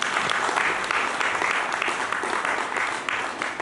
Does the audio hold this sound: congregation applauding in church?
yes